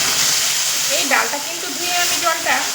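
Water poured into a hot pot of lightly reddened fried lentils, giving a loud steady steaming hiss and sizzle, with a voice talking intermittently over it.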